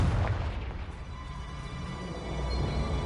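A Confringo spell explosion in the video game Hogwarts Legacy: one heavy, booming blast up front that rumbles and fades over a few seconds, loud and deep.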